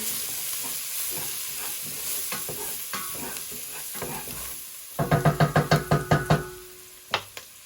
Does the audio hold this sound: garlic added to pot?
yes